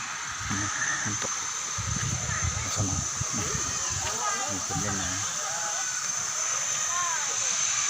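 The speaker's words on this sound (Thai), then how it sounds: "ชั้นน้ำตกเขาเชมเลานะ" Khao Chamao waterfall in Rayong, Thailand, with water rushing steadily under continuous broadband hiss and splashing, close by, while people talk faintly in the background.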